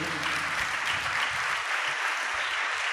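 A congregation at a Telugu church worship service claps hard in unison, a dense, loud, steady wash of applause filling the space from start to end with no voices over it.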